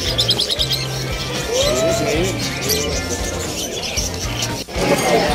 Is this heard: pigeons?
yes